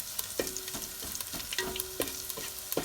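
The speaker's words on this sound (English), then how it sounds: "ginger is really cool in my hand. Temper this. A light saute really" Ginger lightly sautéing in a pan for vegan lentil patties, a soft steady sizzle broken by a few sharp utensil scrapes and taps against the pan, with no talking.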